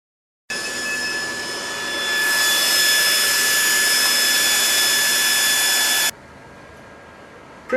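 A Mutoh ValueJet 426UF UV printer runs a print job with a steady whirring hum and high-pitched whine that swells partway through, then cuts off sharply, leaving a quieter background hum.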